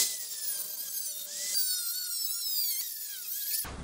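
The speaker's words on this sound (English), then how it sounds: "And I just drilled some holes." A high-pitched whining drill bores steadily through a carbon fiber plate for a Honda Ruckus scooter, its tone wavering as pressure changes, stopping abruptly near the end.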